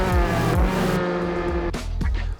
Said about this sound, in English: this car, most notably with the side exhaust, it's super loud, it's super emotional to drive